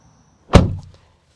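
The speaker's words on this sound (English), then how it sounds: "Closing up the door there" The door of a 2026 Honda Civic sedan shuts with a single solid, close thud that decays quickly against an otherwise quiet background.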